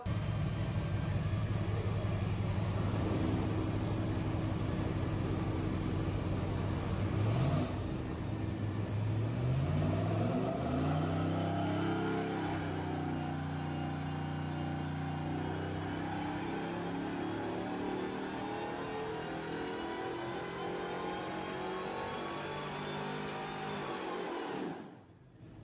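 A 4.8L LS V8 boosted by a junkyard V6 M90 supercharger on a 3.8 pulley runs loud and close. A steady drone and whine sweeps upward as the revs climb, then holds before cutting off abruptly, with no talking.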